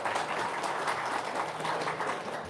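Applause from an audience, a steady dense patter of clapping hands that fills the space evenly and continuously, moderately loud and fairly close, with no voices over it.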